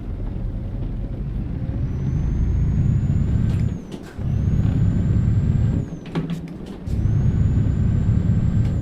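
A heavy truck engine in the Euro Truck Simulator game drones steadily, broken by several sharp hissing bursts of air brake release and a faint high whine in the background.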